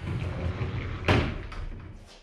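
A large built-in bedroom wardrobe door is opened once, a single sharp knock-like clatter partway through, followed by a faint softer bump over a low room hum.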